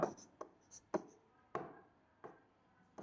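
Writing strokes on a board or paper during a Bengali-language biology lesson: a series of short, scratchy marks in an irregular rhythm, close and fairly quiet, with no talking over them.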